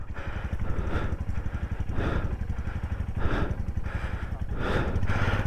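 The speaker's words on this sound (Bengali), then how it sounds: "দেখো বরফের উপর থেকে ঢালে বাইক নামানো" A motorcycle engine chugs and revs unevenly at close range, its pulsing rumble rising and falling as the bike moves slowly down a snowy, muddy slope on the Sandakphu route.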